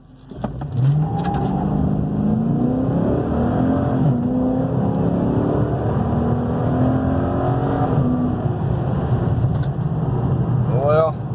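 A Dodge Challenger RT with an automatic transmission accelerates hard from 0 to 60, its engine note climbing loudly and dropping back at each automatic upshift before climbing again.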